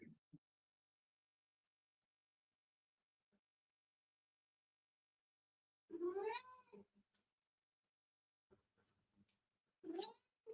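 A house cat gives two drawn-out meows several seconds apart, close and clear against near silence, with only a faint click or two in between.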